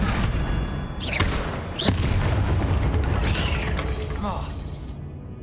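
A spell cast in Hogwarts Legacy lands as a loud, sharp magical boom with a whooshing burst, set against dense ongoing game sound and other spell effects.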